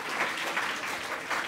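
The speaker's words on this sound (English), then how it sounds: "Can we give one more brief round of applause for our panelists and our moderator?" A youth forum audience at the City Club of Cleveland gives a brief, steady round of clapping for the panelists and moderator, many hands patting together at close range.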